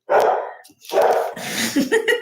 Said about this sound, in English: That's my dog. He's a big Australian Shepherd.